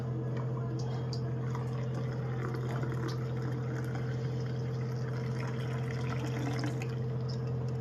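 Strained, ground fruit juice sweetened with a little sugar is poured out, giving a soft steady liquid trickle over a constant low hum, with no talking.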